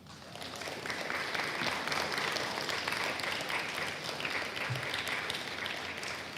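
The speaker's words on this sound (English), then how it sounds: "you give them a round of applause" An audience at a senior awards night claps for family members, steady broad applause that swells in quickly and holds at an even level, somewhat distant and soft.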